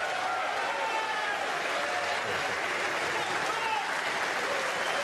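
Steady crowd applause fills the hall at an evening snooker match at Alexandra Palace, continuous and dense throughout with no clear break, close and moderately loud.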